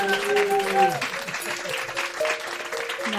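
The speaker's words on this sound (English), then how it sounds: "We didn't just add that clapping." Live audience clapping at a recorded podcast session, a dense steady patter of many hands close to the microphone with voices and cheers mixed in.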